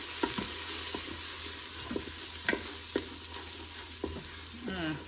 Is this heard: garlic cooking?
yes